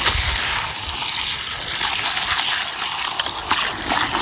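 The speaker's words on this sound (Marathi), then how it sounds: "तीन पाण्याने घ्यायची धुवून चांगली" Wild kurdu leafy greens are washed by hand in water, giving a steady, close gushing and sloshing of water throughout with a few sharper splashes near the end.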